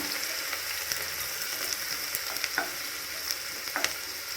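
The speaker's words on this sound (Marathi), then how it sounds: "कांदा टाकला, थोडासा लाल होऊ द्यायचा कांदा।" Chopped onion fries in a pan for mutton curry, making a dense, continuous sizzle close by. Occasional soft scrapes of stirring break through, with no talking.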